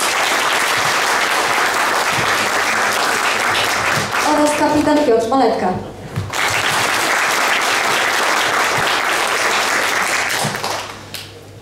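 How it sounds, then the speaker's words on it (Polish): An audience at a patriotic congress in Braniewo bursts into sustained applause, dense and loud, with a voice briefly speaking over the clapping midway before it continues. "Brawa"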